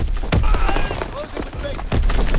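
Grenade blast and gunfire in a PS4 war game, several sharp thuds and bursts of shots over a continuous busy battle din, with a voice speaking over the action.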